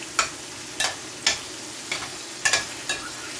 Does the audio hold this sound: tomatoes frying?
yes